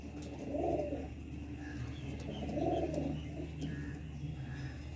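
A male lambadi pigeon coos close by in two soft, rounded bursts a couple of seconds apart, over a quiet background with faint chirps.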